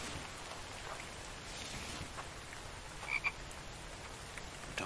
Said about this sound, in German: Und da war auch ein Frosch.